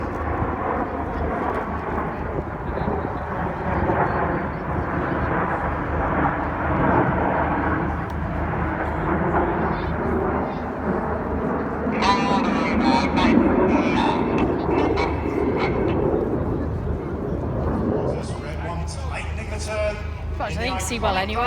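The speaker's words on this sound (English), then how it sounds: "the aircraft banked to the left in a big barrel roll" Red Arrows jets banking into a big barrel roll at the Midlands Air Festival, a steady loud roar that swells and recedes, with a commentator talking over it.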